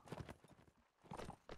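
Horse hooves clip-clop in the video game Mount & Blade, a quick faint series of hoof beats that pauses briefly and then resumes, heard alone at low level.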